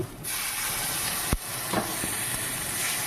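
Water poured into frying spices (chili and turmeric powder) in a pan for hilsa makhani, giving a continuous loud steamy hiss and sizzle with a couple of brief knocks, close and alone.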